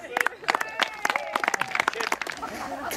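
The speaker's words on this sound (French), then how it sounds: "Et on l'applaudit très fort." Audience applause at a staged show, a dense run of sharp claps mixed with cheering voices and chatter, moderately loud and continuing throughout.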